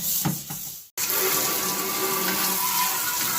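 Tap water running while washing the drip tray of a Philips smokeless indoor grill at a sink: steady, fairly loud gushing water that cuts out briefly, then resumes and flows on continuously.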